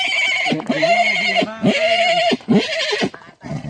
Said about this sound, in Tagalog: Ganun pala yung mga kabayo pag kapwa lalaki nag, ano, nag-aaway.